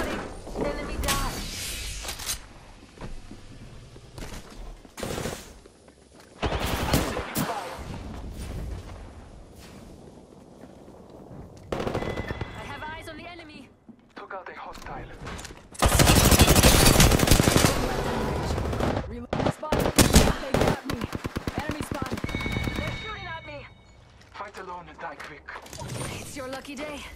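Gunfire in a shooter video game, with loud machine-gun bursts and single shots arriving in clusters separated by quieter gaps, plus a heavy sustained barrage in the middle. A voice talks between the bursts.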